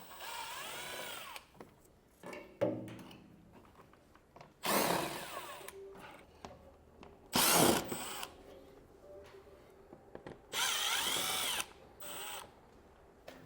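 Power drill bursts remove the underbody panel screws during a base plate kit installation on a car, several short whirring runs of one to two seconds separated by pauses and small clicks and clatter.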